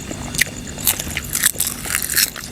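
Crunchy fried beef balls being bitten and chewed up close, a dense run of sharp crackling crunches and scraping bites over about two and a half seconds, with no talking.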